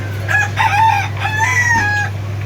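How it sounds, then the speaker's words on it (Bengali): A hill-breed rooster crows nearby, one loud, drawn-out call of rising and falling notes with a steady low hum underneath. "এই যে আমার রাতাগুলি পাহাড়ি রাতা"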